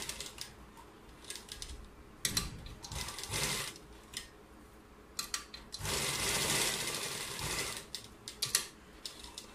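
A sewing machine stitches a garment sleeve with piping, running in short bursts with pauses, the longest steady run mid-way, close and moderately quiet.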